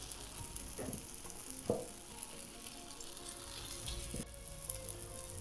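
Batter for a crisp jowar dhirde fries in oil on a hot griddle, giving a steady close sizzle with a few soft scraping touches over it.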